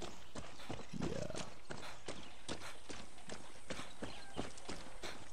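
Horse hooves clip-clopping in the video game Far Cry 6, a steady trotting rhythm of close, sharp hoof strikes, with a brief snort or whinny early on.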